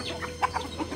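Domestic chickens cluck in a few short, quick bursts close by, with a farmyard murmur underneath and no talking.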